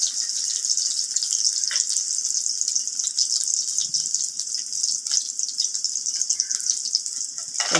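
Garlic sautéing in a pan while cooking a garlic chutney for lentil adai dosa, giving a steady, bright, close-up sizzle that holds evenly from start to finish with a few small pops and no talking.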